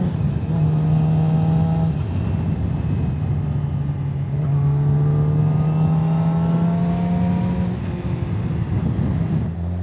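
A Yamaha R6 sport bike revs up through the gears, its whine climbing, dropping at each shift and climbing again in two clear pulls, loud and close with no talk.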